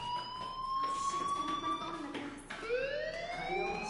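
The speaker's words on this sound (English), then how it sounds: "do you hear that fire alarm? That means you should be outside." Fire alarm in the video game Life is Strange, a loud wailing electronic tone that rises, drops off, then sweeps up again, sounding alone and close.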